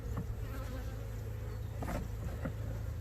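Honeybees buzz steadily during a hive inspection, a dense, continuous hum close to the ear with a few louder passes of individual bees, no voices.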